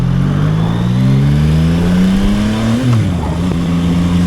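The engine of a Yamaha MT-09 motorcycle revs in a rising pitch, then a quick-shifter gear change briefly dips and jumps the tone before it keeps pulling, heard loud and close from the rider's position.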